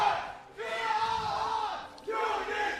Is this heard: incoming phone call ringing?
no